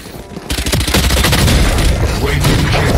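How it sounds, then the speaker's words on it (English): A flashbang grenade in Valorant bursts sharply after a quiet start, followed by a dense, loud roar of blasts and ringing that fills the rest of the moment. "Flashbang!"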